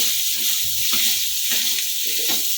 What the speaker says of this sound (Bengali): এটাকে ভাজা ভাজা করে নেব